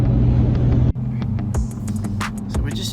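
Car driving along a winding road in the Atherton Tablelands of Far North Queensland, a steady engine and road rumble from inside the cabin with a brief dip near the start.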